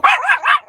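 A puppy named Coco gives a single drawn-out, yelping bark with a rising and falling pitch, close and loud, heard inside a car.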